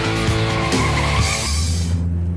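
A 2006 Mazda3 GS brakes hard, its tires squealing and skidding loudly for about two seconds before the screech fades into road noise.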